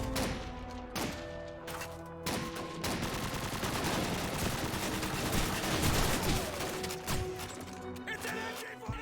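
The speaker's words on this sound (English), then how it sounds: "It's an MG42." MG42 machine gun fire in the video game Call of Duty 2, a continuous roaring stream of rapid shots after a few separate bangs, loud and sustained with faint talk beneath.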